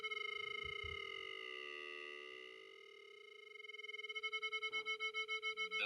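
Two pure, slightly detuned tones near 440 Hz sound together, their combined level swelling and fading in slow beats that gradually quicken toward the end, steady and alone with no voices.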